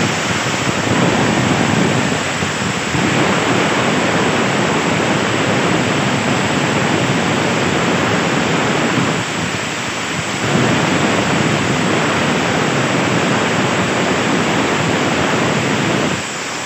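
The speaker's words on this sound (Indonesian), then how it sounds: "sisa bekas freon R22 itu yang ada di selang, di manipul, dan di bagian sini itu semuanya tertiup keluar" Leftover R22 refrigerant vents from an AC manifold and hose in a loud, steady hissing roar that continues for a long stretch, dipping briefly twice before surging back, with no voices over it.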